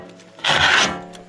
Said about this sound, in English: We're gonna scrape the snow off.